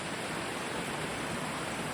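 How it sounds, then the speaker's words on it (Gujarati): A small forest waterfall gives a continuous, even rushing roar of falling water, close and loud, with no voices over it. "આ એક મસ્ત ધોધ છે"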